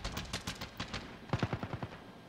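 Gunfire in the video game Call of Duty Warzone, a rapid burst of automatic shots, then a brief gap and a second louder, closer burst of shots in quick succession.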